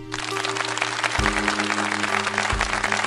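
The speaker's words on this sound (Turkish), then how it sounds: "Alkışlayın lan" Audience applause at a Turkish comedy show, a dense, steady wash of clapping lasting throughout, with low hum and music-like tones underneath.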